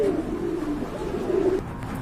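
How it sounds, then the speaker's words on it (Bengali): Pigeons coo close by among birds kept for sale, a low throaty warbling call that rises and falls in two drawn-out phrases over faint background noise. "এখানে কিন্তু আরেক জোড়া কবুতর আছে"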